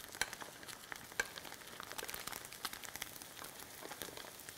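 Garlic frying gently in oil with tofu in a pan, a soft continuous crackle and spatter of small pops, fairly faint and without speech.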